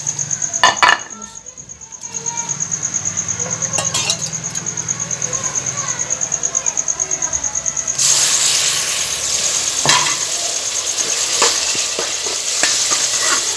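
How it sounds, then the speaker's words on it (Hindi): Tomatoes and masala fried and stirred in a pan, a continuous sizzle with regular spatula scraping and clinks, a high whining tone throughout, and louder hissing in the second half. "अब हम इसको भूनना है मसाले को"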